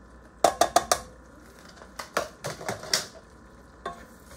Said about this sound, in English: Now I'm going to stir this for 5 minutes.